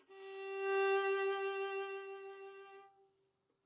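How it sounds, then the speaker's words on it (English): Bowed far from the bridge with light pressure, a violin holds one soft, airy note that swells gently and fades, less bright in its upper overtones, heard alone and followed by a short silence. "If you move it farther away from the bridge and maybe lighten up the pressure a little bit, you get a sound like this."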